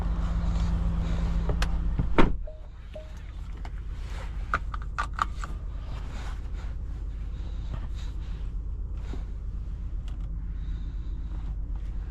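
A 2024 Porsche Cayenne S Coupe rolls along the road, heard from inside as a steady low rumble of engine and tyre noise. A louder thump comes early on, followed by scattered faint creaks and clicks from the cabin.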